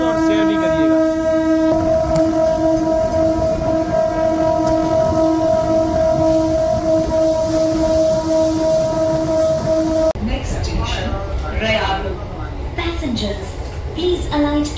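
A train arrives at Rairu railway station on the inaugural Gwalior to Joura run, a loud sustained tonal horn ringing over a constant rumble for about ten seconds, then giving way to rattling, clattering noise and background voices.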